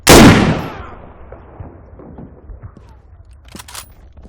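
A single loud rifle shot from a bolt-action weapon in Arma 3 with the IFA3WarMod World War II mod, a sharp crack close by that decays into a long rolling echo, followed by faint mechanical clicks of the action.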